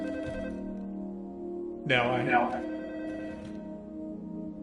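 A telephone rings in a video game, a steady electronic bell tone with a brief louder ringing burst midway, heard beneath a short spoken word and background game sound.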